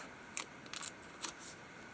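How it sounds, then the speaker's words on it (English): Scissors cutting paper for a junk journal give a few quiet, crisp snips in quick succession against a near-silent background. "cut off what we need to cut off."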